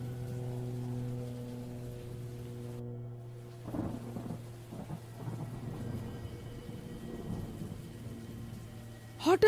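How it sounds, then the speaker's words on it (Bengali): Heavy rain with thunder used as a sound effect in a spooky story, a low steady rumble under a hum, then bursts of rain noise and a sharp crack at the end. "জোরে বৃষ্টি হতে থাকে আর বিদ্যুৎ চমকাতে থাকে"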